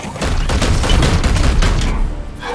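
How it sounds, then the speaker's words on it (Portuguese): Rapid burst of gunfire from a servitor unit in the Warhammer 40,000 tactics game Chaos Gate - Daemonhunters, a dense run of loud overlapping shots lasting over two seconds before tapering off. "o servidor vai dar mais um tiro"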